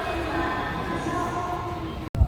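Inside an Osaka subway station, a steady, loud rail rumble and hum with faint high tones fills the space, then cuts off abruptly near the end, followed by a brief low thump.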